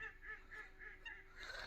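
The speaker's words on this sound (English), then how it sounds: "you can hear a hell of a lot of ducks in the background" Many geese or ducks honk and quack steadily in the background, a dense flock calling in repeated rhythmic bursts at a moderate distance, with no talk over them.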